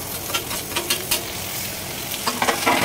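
Tomato added to onions and green chillies frying in a pan, a continuous close sizzle with light stirring scrapes and soft spatter bursts.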